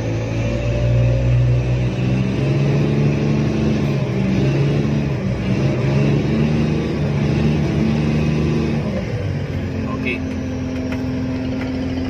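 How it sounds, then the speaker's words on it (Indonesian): A Komatsu HD785 dump truck's engine is held at raised revs of about 1570 RPM, a loud, steady droning roar with strong humming tones that drops to a lower, settled pitch near the end. "Naikkan RPM-nya sampai 1570."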